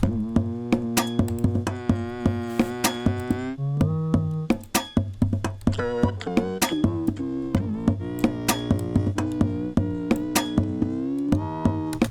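A synthetic, buzzy vocal line processed through iZotope VocalSynth 2's vocoder in FL Studio 20, robotic and harmonically rich, riding over a steady rhythmic backing.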